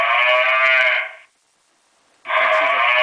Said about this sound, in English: I did just set the alarms in here, you know, to trigger the flasher and the sounder.